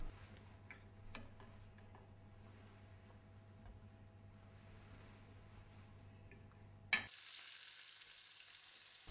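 Meatloaves sauté in olive oil in a large frying pan, a faint steady sizzle with occasional soft ticks and pops, which cuts off abruptly near the end after a sharp clack.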